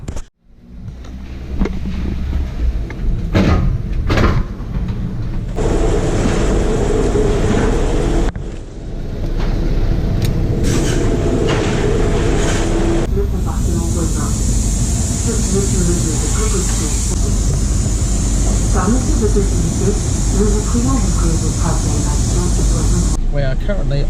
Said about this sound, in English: We are currently on the train.